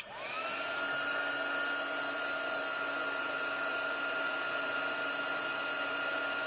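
Heat tool warming embossing powder for a stamping craft, spinning up at once into a steady, even high-pitched blowing whine that carries on alone without a break.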